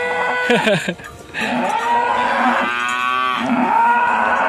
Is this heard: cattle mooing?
yes